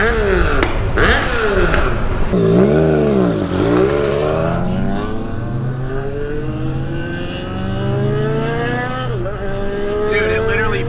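A quad turbo street bike engine revs hard and climbs through gears, its pitch sweeping up repeatedly as it accelerates, loud and close, with excited voices talking over it.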